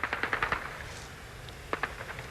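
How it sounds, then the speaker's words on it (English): Rapid bursts of automatic gunfire, faint and distant, in two strings of quick shots separated by a short pause, during the 1991 Soviet coup. "Did you guys hear that automatic weapon fire?"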